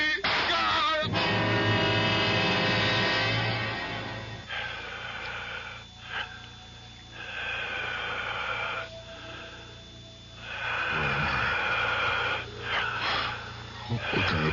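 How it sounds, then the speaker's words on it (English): An eerie breathing effect fills a room in an old radio mystery drama, a loud, continuous wheezing rasp that swells and ebbs in slow waves under a steady hiss, with no words spoken. "It sounds like the whole room is breathing. I can hear it breathing."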